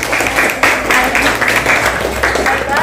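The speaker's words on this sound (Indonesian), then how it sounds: "Tepuk tangan untuk Kuntum." Students in a grade 8 social studies class at MTsN Padang Panjang applaud a classmate, Kuntum, in a steady burst of close clapping that carries through the full few seconds.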